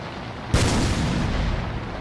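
A cannon in a Left 4 Dead 2 Hammer map fires a single sudden boom, then a broad rumbling wash of noise that holds steady to the end.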